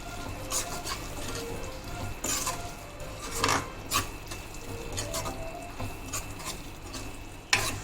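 A utensil stirs tomato egg curry in a pan, scraping and clinking against the metal at irregular moments over a soft, continuous sizzle, with one sharp knock near the end.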